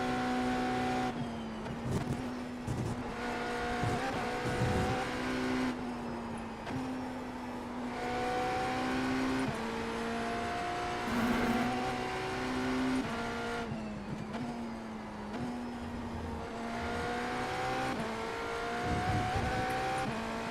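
GTE race car in the iRacing simulator at Watkins Glen, its engine revving hard and climbing in pitch, then dropping at each gear change in a repeating cycle of upshifts, loud and close with no talking.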